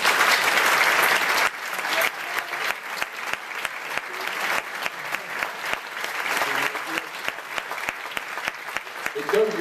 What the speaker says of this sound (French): j'aimerais que vous applaudissiez monsieur le maire qui symbolise sa municipalité ici ce soir